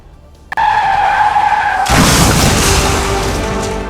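A speeding tractor on a highway loses control and slams into the roadside railing: a loud whining, squealing tone builds, then breaks into a heavy crash of noise that keeps roaring and slowly fades.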